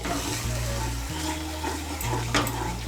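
Spice paste for a vegetarian pointed gourd dish frying in a pan, a steady close sizzle with scraping as it is stirred, and a faint tap or splash of water.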